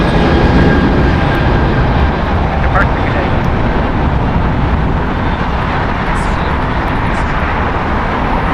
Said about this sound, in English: United Airlines Flight 1637 going to EWR. A Boeing 777-200 ER, 22 years old.